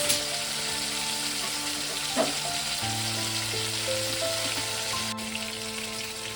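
Rohu fish pieces fry in a pan with a steady, close sizzle and crackle and one brief clatter partway through, with nobody speaking.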